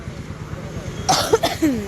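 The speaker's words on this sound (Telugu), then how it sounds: "దగ్గు జలుబు" Two quick, sharp coughs sound close by after a quiet stretch, followed by a brief voice.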